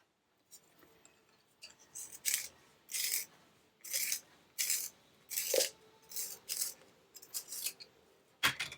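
A colored pencil being sharpened in a small hand sharpener, heard as a series of close, quiet scraping rasps in regular bursts about one per second, with a brief clunk at the end.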